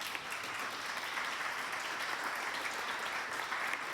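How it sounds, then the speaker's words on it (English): Audience applause for candidates at a city council candidate forum in North Augusta, a moderate, even wash of clapping from a room full of people, heard at some distance with no voices over it. "Let's give our candidates a round of applause."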